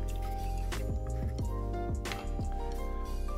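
Drambuie liqueur poured into a mixing vessel for a scotch whisky cocktail, a close, quiet glugging and dripping of liquid with small splashes.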